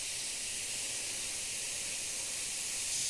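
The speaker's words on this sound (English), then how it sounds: "I actually like that it's side feed because I can see exactly where I'm going with the airbrush." A side-feed Iwata Eclipse Takumi airbrush sprays with a steady, close, continuous airy hiss that holds at even loudness throughout, with no talking.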